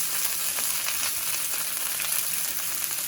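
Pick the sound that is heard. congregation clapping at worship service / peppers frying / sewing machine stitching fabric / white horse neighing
peppers frying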